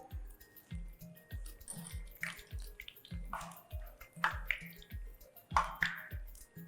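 Dumplings (phulkiyan) for dahi bara drop one after another into a bowl of warm water, producing soft regular plops and drips with occasional light clinks, close and quiet, no talking.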